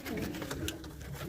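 Pigeons coo softly inside a breeding loft, low murmuring calls repeating close by over a dense background of rustling and other birds.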